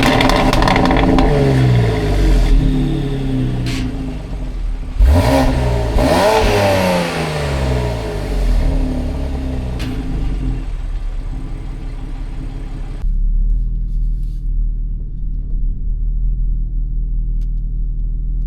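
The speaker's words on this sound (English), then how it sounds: "Sitting here fucking revving this shit." Tuned BMW X3 M with Bootmod3 stage 2 tune, about 700 hp, revving up repeatedly in loud sweeping bursts before settling into a steady, rumbling idle for the final seconds.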